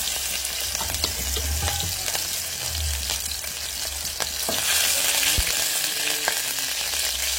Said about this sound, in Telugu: ఆయిల్ హీట్ ఎక్కింది కదండి, ఉల్లిపాయలు వేసుకోండి. పచ్చిమిర్చి వేసుకోండి.